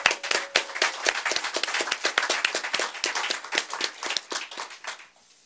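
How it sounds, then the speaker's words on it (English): A small audience claps for Stephanie Fox, an American woman helping save Palestinian lives; distinct separate handclaps ring out at a brisk, uneven pace, then thin and fade at the end. "all of us should at least give her a round of applause"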